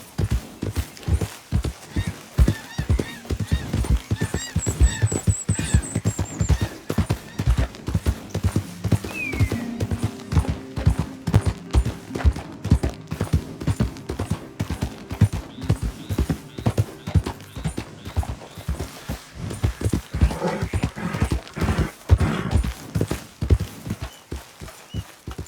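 Horse hooves in Red Dead Redemption 2 clip-clop in a steady, close walking rhythm throughout, loud and even, with an occasional faint whinny and a brief high tone near the start.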